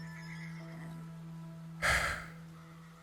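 Horse neigh played as a sound effect during a tabletop role-playing session, one short loud breathy whinny bursting over a steady low hum.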